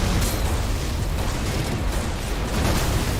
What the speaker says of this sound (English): if I shoot directly at a target that's near me, it will still explode in my face